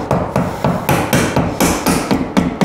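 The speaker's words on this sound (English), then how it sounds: "All that cracking you're hearing is the fitting coming loose." An ABS drain pipe fitting cracks and comes loose during a bathroom drain pump installation, giving a series of sharp, loud, evenly spaced cracking and knocking hits at close range.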